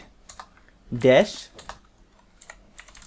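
Keys on a computer keyboard are tapped to enter a command, a few quick scattered clicks heard up close. A voice speaks briefly over the typing.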